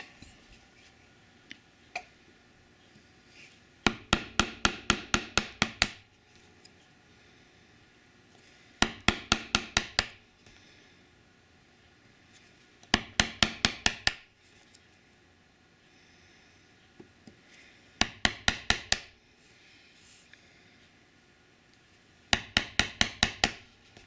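A mallet drives a chisel into pine wood in several bursts of rapid, sharp knocks, each burst roughly eight to ten blows, with short quiet pauses between and a few isolated taps.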